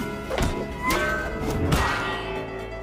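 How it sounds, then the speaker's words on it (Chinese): Film sound effects of a frying pan blocking a robot's punches in a Spanish superhero comedy, heard as several loud metallic thuds and whacks with ringing, clanging tails. "慌乱中，阿洛拿起平底锅抵挡伤害"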